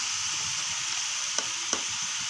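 Prawns frying with curry leaves and salt give a steady, close sizzle, with two brief scraping clanks of a stirring spoon and no voices.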